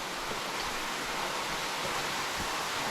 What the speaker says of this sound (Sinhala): වතුර පාර සද්දෙත් ඇහෙනවා.